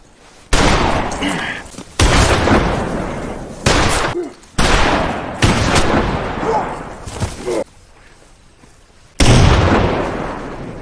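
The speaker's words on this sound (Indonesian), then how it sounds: "Ketchum berhasil menembak bahu Henry" Gunfire in a western film scene: several loud, close bursts of shots and blasts with reverberant tails, separated by short pauses, with voices underneath.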